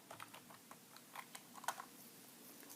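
Quiet keystrokes on a computer keyboard as a terminal command is entered, an irregular run of light, close clicks with one sharper press near the end, no voices.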